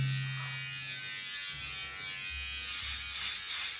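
An inter mac3 TC-9999 electric shaver runs continuously as it shaves a beard, giving a steady, close buzz whose pitch shifts as it presses against the stubble and moves through it, with no speech.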